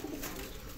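Pigeons coo softly in a single low murmur close by, set against a steady, noisy background without talk.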